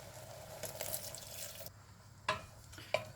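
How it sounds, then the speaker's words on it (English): Water poured into a pan of frying mushrooms, a steady watery hiss and bubbling that drops away midway, followed by a couple of sharp drips or splashes. "give them a little bit more water."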